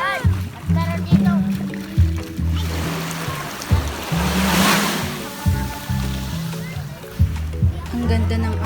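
Ocean waves wash ashore at Sampaguita Beach Resort in Baun, Batangas, Philippines, a broad rushing swell rising and fading beneath people talking nearby.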